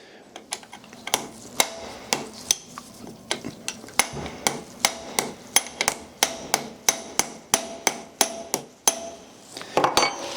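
Steady metallic hammer blows on a Yamaha YZ125 two-stroke engine part, about a dozen evenly spaced sharp clanks, close and loud, with no talking.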